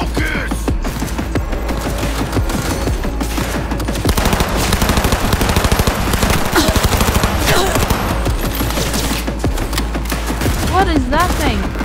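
Sustained machine-gun fire in the Cyberpunk 2077 video game, dense rapid shots rattling continuously for many seconds over a low rumbling bed, loud and close, with brief vocal sounds mixed in.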